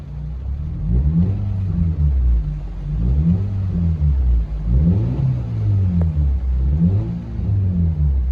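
An Audi A5 S line engine revs repeatedly while parked, rising and falling in four or five loud, close swells over a deep steady rumble, with no talking.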